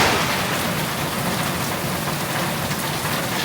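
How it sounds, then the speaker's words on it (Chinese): Heavy rain pours down steadily on a Hmong village about 25 km from Chiang Mai, Thailand, during the rainy season: a dense, even hiss with no breaks or voices. "這一場大雨就算是對我們的歡迎禮了"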